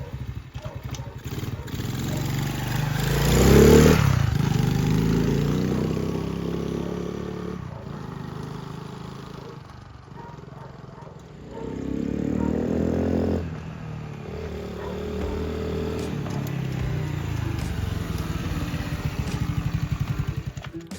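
A 2024 Icebear Champion minibike, a Honda CT70 clone, rides up and down a driveway, its small engine rising in a swell early on, easing, then revving again and running steadily near and fairly quiet, with faint voices in places.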